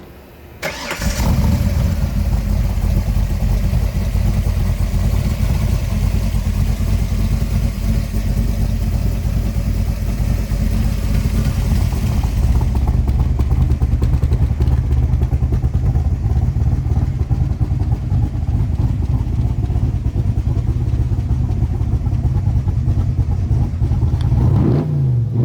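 A 1965 Shelby Cobra Backdraft RT4 cranks and fires up, then idles loud and close with a deep rumbling engine, swelling with revs midway and holding a steady roar until a sudden cutoff at the end.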